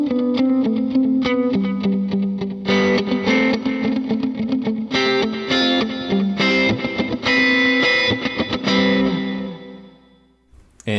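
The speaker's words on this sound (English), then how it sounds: "I have a vintage digital delay, and this one is set to dotted eighth note" Electric guitar through a vintage digital delay set to dotted eighth notes, picked notes and chords echoing in a rhythmic, cascading pattern, loud and alone, fading out near the end.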